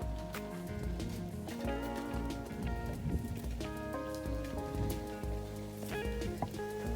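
Steady rain patters on surfaces close by on a forest trail in Taiwan, a dense continuous spatter with scattered louder drops throughout.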